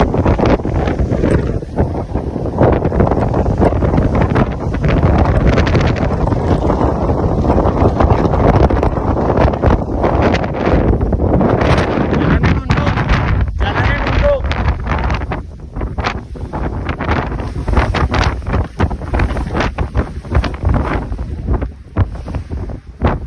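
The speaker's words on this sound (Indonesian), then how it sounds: "Anginnya kencang banget" Strong, continuous wind buffets the microphone on the summit of Mount Ciremai, a loud roaring rush with gusty surges throughout and no pause.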